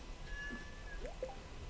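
A cat meows in a video game after being watered, a few short, soft mews rising and falling over a quiet background.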